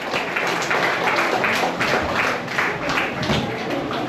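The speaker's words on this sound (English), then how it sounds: "Give him a round of applause." A crowd at a senior citizens' party in Enterprise Village claps in a loud, sustained round of applause, with dense overlapping hand claps and no speech.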